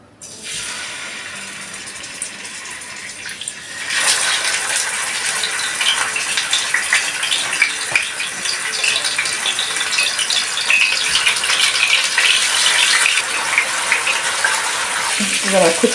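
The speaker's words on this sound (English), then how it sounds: "I'm just going to brown off my oxtail. I'm just adding some oil" Loud, steady sizzling and crackling of oxtail browning in hot oil in a frying pan, starting quieter then surging after a few seconds and continuing throughout.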